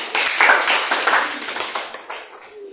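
Students clap in a physics classroom, a short burst of close, uneven clapping in rhythmic pulses that thins out and tapers off near the end.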